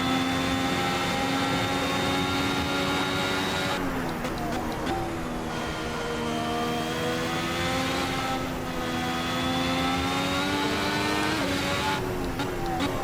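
A Ferrari SF71H Formula 1 car in Assetto Corsa, its engine howling as it accelerates through the gears, a loud steady whine rising in pitch with brief dips at each upshift, close and continuous.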